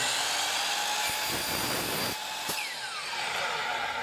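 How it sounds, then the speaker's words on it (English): A tool cuts a small piece off the tip of a shoe mould end cap, producing a loud, steady, rough grinding noise up close that runs the whole time with brief dips. "So we're gonna just cut a little piece off."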